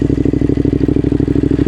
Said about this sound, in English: you can do a clutchless downshift